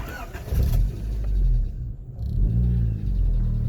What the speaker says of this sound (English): So the idle issue is still there.